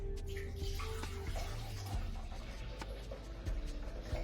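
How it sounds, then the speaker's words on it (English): About ten ounces of apple juice pours into the container of a Vitamix Explorian E310 blender, a soft, continuous liquid stream with no talking. "I'm starting off with about 10 ounces of apple juice"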